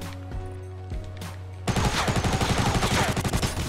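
Rapid automatic gunfire from an assault rifle in the video game Fortnite, played on Xbox One X, bursting in loud and dense after a quieter stretch of game background, with fast repeated shots filling the rest.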